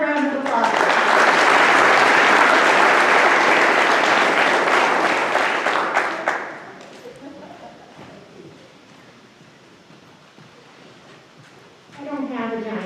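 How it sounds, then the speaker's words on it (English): A loud round of applause at a high school award night swells for about six seconds, then drops away to quiet room tone before a voice begins speaking near the end. "so let's give him a final round of applause."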